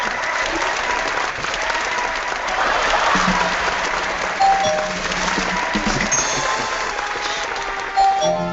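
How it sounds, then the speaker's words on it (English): An audience at the close of a physical education panel session claps steadily and fairly loudly for several seconds, with a few sharper claps standing out near the end. "I think that gets an applause as well"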